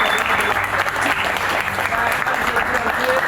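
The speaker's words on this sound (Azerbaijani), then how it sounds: "Onda bütün idmançılarımızı alqışlayaq" An audience at a breakfast gathering with UFC fighters and champion athletes breaks into loud, sustained applause, dense clapping filling the room without pause.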